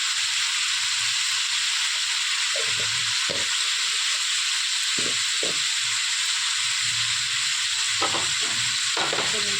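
Dried cumin seeds frying in hot oil give a constant loud hiss and sizzle, with occasional soft knocks of stirring underneath and no talking.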